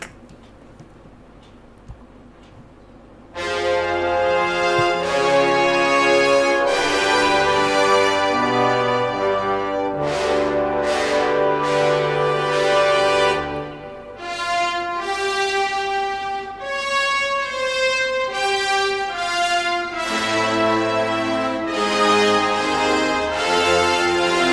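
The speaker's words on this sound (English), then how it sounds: "And the brass section sounds like this." Brass section of a Justice League theme plays bold sustained chords and punchy stabs after a quiet start, loud and full, with no talk over it.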